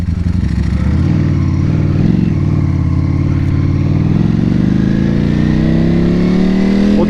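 A motorcycle engine revs loud and close, a dense throaty roar that climbs steadily in pitch as the throttle opens and holds without a break.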